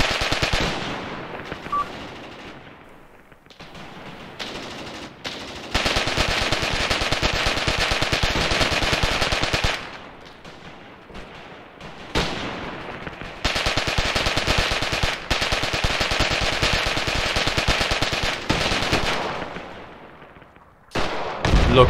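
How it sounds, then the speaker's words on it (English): Artillery strikes and gunfire in the Graviteam Tactics war game: long, dense bursts of rapid machine-gun fire and explosions, loud and close, broken by a few quieter gaps with no voices. "Look at that artillery strike."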